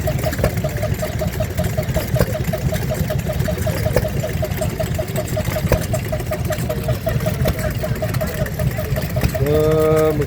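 A Lister D stationary engine running at an outdoor plough day, a steady rhythmic chugging idle beneath crowd noise and background talk.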